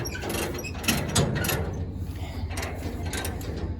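Metallic clanking and ratcheting of a chain being tightened to secure an old Ford 2N tractor, with a few sharper clinks over a steady low engine rumble.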